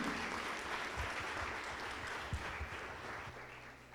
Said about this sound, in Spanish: Denle un aplauso al Señor Padre, Dios Todopoderoso.